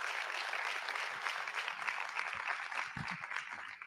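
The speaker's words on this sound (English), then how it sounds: "Would you all give my president, the Jeffrey Norfleet, another round of applause?" An audience at a college State of the College event applauds its president, a steady wash of clapping that holds throughout, with a few louder low thumps near the end.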